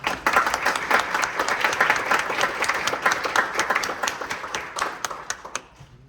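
An audience at a Hispanic Heritage STEAM event at Lone Star breaks into loud, sustained applause, a thick crowd of overlapping claps that thins into scattered individual claps before fading out.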